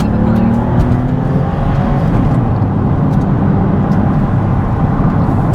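A Porsche 911 of the 996 generation, high-mileage, is accelerating hard on an A road. A loud, steady engine roar and road noise are heard from inside the car, with faint rising engine tones early on.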